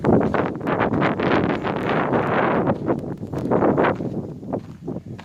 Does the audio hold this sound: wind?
yes